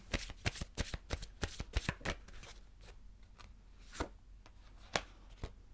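Tarot cards are shuffled up close before a love card is drawn, a quick run of crisp riffling slaps that then thins to a few scattered soft flicks, with no talk.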